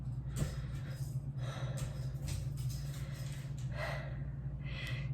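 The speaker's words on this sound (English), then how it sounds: "Just wanted to document my breathing." Labored breathing of a person ill with Covid-19, heard up close as a series of audible gasping inhales and heavy exhales repeating at irregular intervals over a low steady hum.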